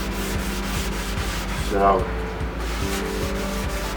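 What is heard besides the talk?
sanding sponge rubbing on a wooden drum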